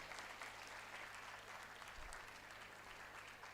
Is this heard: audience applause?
yes